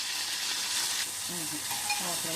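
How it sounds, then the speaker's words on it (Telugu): Cleaned prawns drop into about three tablespoons of hot oil in a pan, producing a loud, continuous sizzling hiss up close, with a voice briefly speaking over it near the end. "ఆయిల్ హీట్ ఎక్కిన తర్వాత మనం శుభ్రంగా క్లీన్ పెట్టుకున్న రొయ్యలను వేసుకోవాలి"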